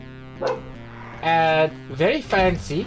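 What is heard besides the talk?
dog barking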